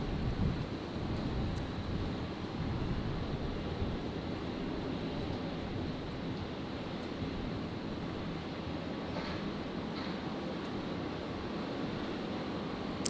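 An airliner landing on runway 01 right at Brisbane Airport, heard as a steady, fairly faint jet roar with broad rumble and some wind buffeting, unbroken throughout and with no talking.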